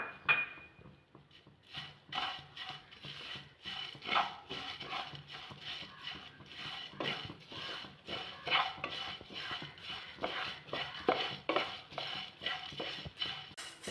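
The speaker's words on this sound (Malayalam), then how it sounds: "അതിലോട്ട് 2 ഏലക്ക, ഒരു 3 ഗ്രാമ്പു, ഒരു ശകലം പട്ട, കുറച്ച് പെരുംജീരകം, ഇതെല്ലാം കൂടെ ഇതിൻ്റെ കൂടെ നമുക്ക് വറുത്തെടുക്കാം." Cardamom, cloves, cinnamon and fennel seeds dry-roasting in a pan for sardine biryani, heard as steady scraping and stirring with a metal spoon, repeated light clinks and rattles of spices against the pan, close and fairly quiet.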